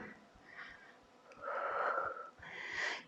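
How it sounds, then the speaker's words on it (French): Forceful breathing during a no-equipment home workout, with several sharp, wheezy exhalations rising into louder, longer pushes of air near the end, close to the mic against a faint rhythmic background beat. "Et vous soufflez bien."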